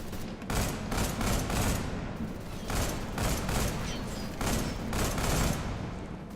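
Explosions and bursts of gunfire in the action game Deadfall Adventures, loud repeated booming volleys in clustered waves with short gaps between them.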